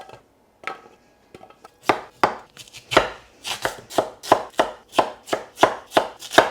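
A courgette being chopped on a cutting board, a few scattered knife taps giving way to a fast, steady run of crisp, close chops with no talk.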